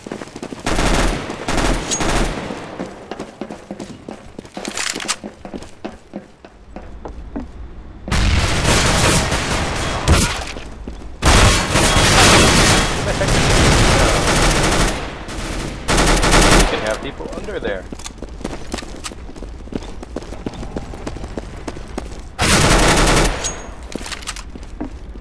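Bursts of automatic rifle fire and loud single shots in the video game Counter-Strike: Global Offensive come in several heavy clusters separated by quieter stretches, close and aggressive throughout.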